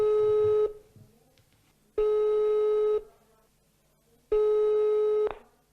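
A telephone busy tone plays while calling military recruitment office numbers, three long steady beeps with silent gaps between, loud and close, with faint background noise.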